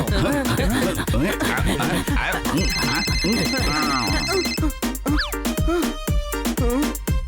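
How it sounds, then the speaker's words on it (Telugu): A telephone rings repeatedly in a kids' cartoon, a loud electronic ringtone over busy background music and sound effects, with brief chuckles. "మీకెవరో కాల్ చేస్తున్నారు"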